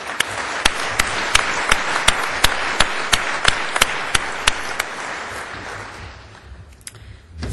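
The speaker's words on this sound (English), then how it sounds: "And a round of applause for Bart, please" At a keynote session, an audience applauds Bart, a moderate crowd clapping with several sharp, distinct individual claps standing out in a loose rhythm, tapering off near the end.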